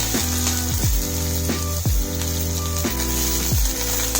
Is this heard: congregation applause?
no